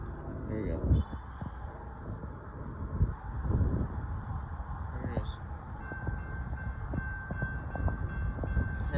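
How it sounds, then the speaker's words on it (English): Amtrak Texas Eagle 21 passenger train passing at Banister Lane in Austin, Texas, a steady rumble of rail cars with a long sustained horn tone in the second half, with people talking nearby. "Amtrak's coming."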